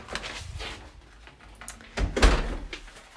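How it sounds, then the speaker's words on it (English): Front door of a terraced house being pushed shut from the hallway, soft shuffling followed by a solid thud of the door meeting the frame, close and moderately loud, with no talking. "Just going to pop the door shut."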